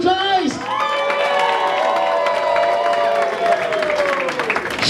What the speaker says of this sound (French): Applaudissez chaleureusement Mademoiselle Joyce